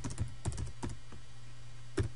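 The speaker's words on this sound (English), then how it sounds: "So let's type in a variable name." Computer keyboard keys tapped in a few sparse, separate clicks while entering a variable name in CAD software, fairly quiet over a steady low hum.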